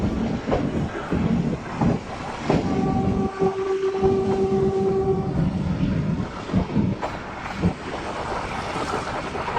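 A metre gauge passenger train on the Junagadh to Chalala line rumbles and rattles along steadily, with a clear sustained horn blast sounding in the middle, loud and close.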